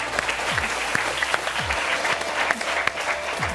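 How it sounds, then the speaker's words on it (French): A TV studio audience applauds for a guest on a French football talk show set, steady dense clapping at moderate level, with a few low thumps and a faint voice underneath. "Vous pouvez l'applaudir."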